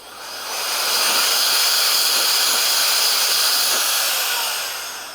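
A Nitecore BB2 electric air blower blasts grit off a rifle scope with a loud, steady, close hiss that swells up, holds for several seconds, then eases off, with no talk.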